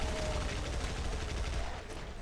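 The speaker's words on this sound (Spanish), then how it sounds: "Venga, esos fuegos artificiales." Fireworks-like crackling bursts from a video game fire lair level, a steady rapid popping rattle, fairly faint and continuous throughout.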